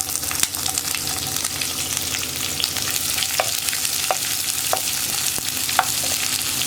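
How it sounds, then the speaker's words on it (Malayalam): Sliced onions sautéing in a pan with dried red chillies for a green peas curry: a steady low sizzle broken by scattered clicks and scrapes of a spoon stirring, close and fairly quiet. "സവോള ഒന്ന് നന്നായിട്ട് വഴറ്റിയെടുക്കുക"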